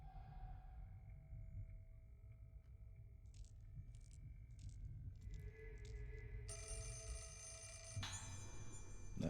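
Telephone ringing in the Fatal Frame horror video game, short repeated ring bursts over a low ambient drone, then a brighter sustained ringing tone toward the end, with no talking.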